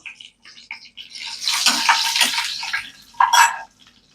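Vadagam and dried red chillies hit hot oil for a toor dal sambar, giving a close, bright sizzling crackle that swells for a couple of seconds, flares once more briefly, then dies away.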